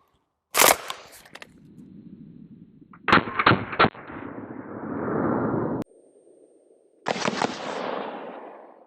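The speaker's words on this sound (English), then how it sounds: "coming out of my MP5 SD. And this one fires in fast semi-auto" A suppressed MP5 SD fires 9mm Minuteman ammunition in fast semi-auto, with three clusters of sharp, close, muffled shots in rapid strings, each burst trailing into a rumbling echo and brief gaps of quiet.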